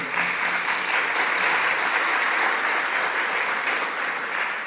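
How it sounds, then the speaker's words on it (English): Sustained audience applause at a conference closing ceremony, a dense, even wash of clapping from many hands, fairly close and unbroken throughout. "I would like also, please, to thank you and to ask you to applaud them"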